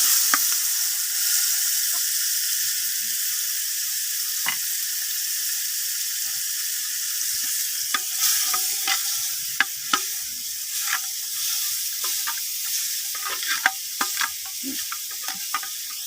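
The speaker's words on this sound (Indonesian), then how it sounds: "Kita goreng dulu cabenya." Chili peppers fry in a hot pan while being stirred, giving a steady close sizzle broken by scattered clicks and scrapes of the spatula, with no talking.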